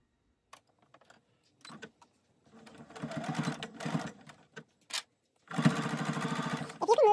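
A sewing machine stitches closed the turning opening of a lined drawstring bag, short whirring bursts that build into longer steady runs of rapid needle rattle, close and fairly quiet, with small handling clicks between.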